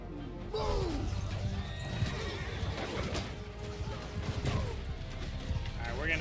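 Horses whinnying loudly several times amid hoof clatter and battle commotion in the medieval combat game Bannerlord, with a voice speaking partway through.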